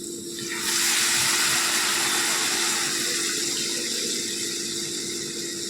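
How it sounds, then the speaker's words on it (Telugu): Tamarind pulp pours into an egg and mango curry, setting off a sudden loud, rushing liquid hiss that holds steady and close for several seconds before easing slightly. "ఇందులోనికి చింతపండు గుజ్జు పోసుకోవాలి."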